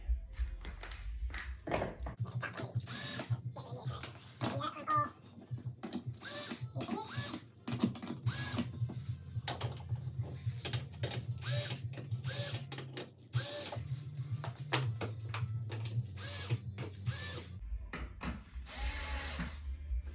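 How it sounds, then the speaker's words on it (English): Short bursts from a power drill bore starter holes for door hinge screws on a French door, whirring up and stopping repeatedly with clicks between runs, close and moderately loud. "put the hinge in and then just do little starter holes for the screws to line up perfectly"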